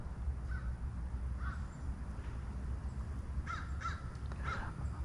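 Several crows call out, a couple of isolated caws early and then a quick cluster of harsh caws toward the end, moderately distant above steady low rumbling background noise.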